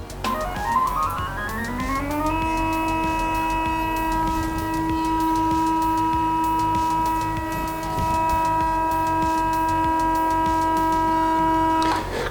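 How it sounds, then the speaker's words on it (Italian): A Syrp timelapse camera slider's motor running in video mode gives a steady high electric whine that rises in pitch as it spins up, then holds an even tone, close and alone. "è un po' fastidioso perché è il rumore del motore"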